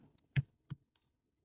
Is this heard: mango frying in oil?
no